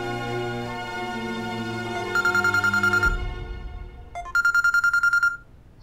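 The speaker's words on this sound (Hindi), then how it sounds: "हमें लगता है कि कांस्टेबल का फोन होगा।" A telephone rings with an electronic trilling ringtone: a sustained tone, then two bursts of rapid pulsing beeps with a short gap between, loud and close with no talking.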